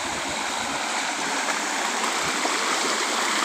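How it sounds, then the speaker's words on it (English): A small waterfall and stream on a small river in the New Shillong countryside, rushing steadily and continuously at close range with broadband splashing and no pauses. "Water falling here, looking nice."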